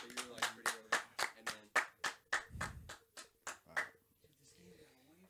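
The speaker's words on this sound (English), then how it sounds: "round of applause for Josh" A small studio group claps for Josh in a quick, steady run of sharp hand claps that fades out near the end, with voices mixed in.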